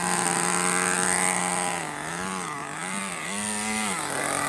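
Nitro RC car engine, just restarted after long storage, screaming loudly while the car drives to warm up, its high buzzing pitch dipping and rising repeatedly with throttle changes as it moves about.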